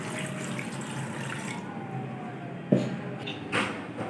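About one and a half glasses of water poured into a pot of beef biryani with whole spices, a steady close pour that stops partway, followed by a couple of clanks.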